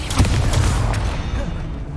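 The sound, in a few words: Confringo and Expulso spell blasts in video game Hogwarts Legacy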